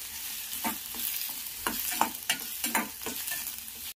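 Onions fry in a pan with a constant hissing sizzle, while a spatula scrapes and stirs them in a quick, uneven rhythm up close.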